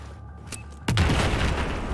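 A sudden heavy explosive detonation in the war video game Battlefield 4 strikes just before the one-second mark, a loud boom that rolls on as a sustained rumble after a quieter lead-in.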